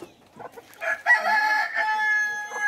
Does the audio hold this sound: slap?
no